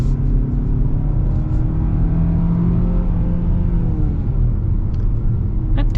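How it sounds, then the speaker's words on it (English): A 2025 Hyundai Tucson Limited with a 187-horsepower engine accelerating in sport mode, a steady loud cabin rumble with a rising engine drone underneath. "Now we are in the sport mode. We'll unleash all 187 horsepower."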